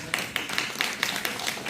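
Applause from a crowd, steady and fairly dense, with individual claps popping out at a regular pace.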